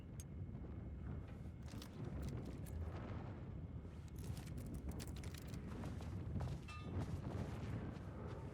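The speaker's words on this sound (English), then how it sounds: "Flashbang." A flashbang goes off in the horror game Alan Wake 2, a loud, dense burst of booming noise that keeps rumbling and crackling heavily for several seconds, with no voices over it.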